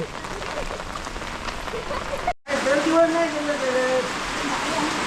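Heavy Konkan monsoon rain pours steadily in a village, a dense close wash of rainfall that briefly cuts out, then resumes with faint tonal sounds like distant voices or calls riding over it.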